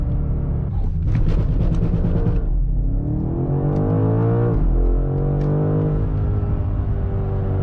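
A high-performance car, such as an AMG GT63, BMW M5, G63 or M4, launches hard with wheel spin, its engine roaring loud and close as it climbs through the revs in one sustained burst with a gear change partway.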